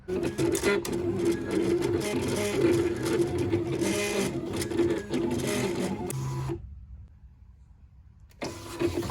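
A craft vinyl cutter works through a car decal, its motor whirring and buzzing steadily at close range before stopping abruptly, then briefly starting again near the end.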